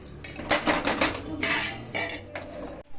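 Ingredients for the chiroti sweet are mixed in a pot, producing busy metallic scraping and clattering of a utensil against the pot in irregular bursts, close up and fairly loud with no talking.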